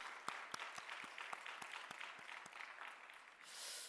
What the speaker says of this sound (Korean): 우리 부활하신 하나님 영광의 박수 한 번 더 올려드리도록 하겠습니다.